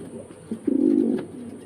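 Fancy pigeons at a pigeon farm in Faridpur give a soft, low, throaty coo that swells and wobbles for about half a second, followed by a quieter trailing coo, close by with no talk.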